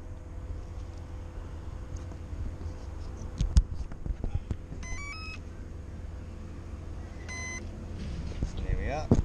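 A 30A SimonK brushless speed controller powered by a 3-cell battery plays a few short electronic startup beep sequences in stepped tones, rising and falling, over a low steady hum with some background voices.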